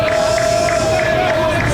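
Loud, dense crowd noise at a college baseball game fills the whole stretch with continuous roaring and cheering, a steady tone running through it and no single voice standing out.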